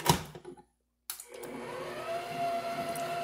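An electric mixer whirs through chocolate layer cake batter, a steady close motor hum that starts, cuts out briefly to silence, then resumes and runs on evenly.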